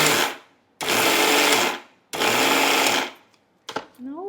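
An electric mixer grinder whirs loudly through sesame seeds for til ladoo in a home kitchen, running in two long bursts of about a second each with short pauses, then brief jerky pulses.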